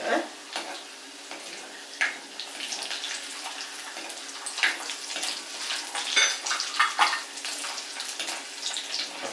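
Garlic fries in a pan for a rice and mango pickle, a continuous crackling sizzle with uneven bursts of spatter and the occasional scrape of stirring.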